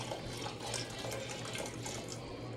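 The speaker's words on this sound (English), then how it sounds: "And then I'm going to add the vegetable beef broth." Vegetable broth pours from a carton into a cooking pot for homemade vegetable beef soup, a steady close liquid splash and trickle that runs without a break and with no talking.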